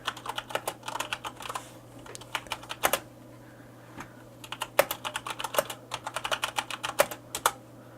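A Corsair K70 RGB MK2 mechanical keyboard with Cherry MX Brown switches is typed on in uneven bursts of soft, crisp clicks and clacks, fairly quiet and close, with no talking.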